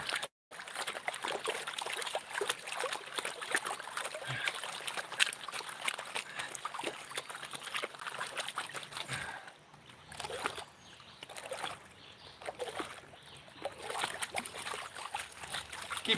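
Gold pan worked by hand in a stream in Georgia, USA, water sloshing and trickling steadily with splashy swirls close by, dipping briefly quieter partway through.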